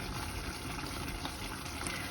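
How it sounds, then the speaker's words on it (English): Water poured into minced meat cooking in a pan for Greek spaghetti sauce, a steady low gurgling wash with sizzle that holds evenly throughout, close and moderately loud. "we make sure we add a little bit of water, not more"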